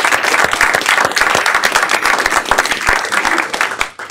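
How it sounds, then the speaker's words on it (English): Audience at a Harvard i-lab startup talk gives a team a round of applause, close, loud, crisp clapping with irregular peaks that tapers off near the end. "I think we should give them a round of applause"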